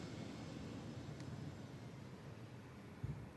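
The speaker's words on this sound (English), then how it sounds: "Ryanair coming in from Milan" At Manchester Airport, a Ryanair airliner arriving from Milan produces a faint, distant broadband roar of jet engines that holds steady under light wind noise.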